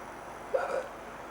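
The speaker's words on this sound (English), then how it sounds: "Why has she got hiccups?" A sedated patient gives a single short hiccup during a colonoscopy, faint and brief against a quiet room hum.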